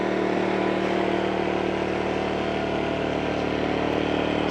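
A Power Smart 2500 watt inverter generator runs steadily with eco mode off, a constant close engine drone and hum with no change in pitch or level and no talking.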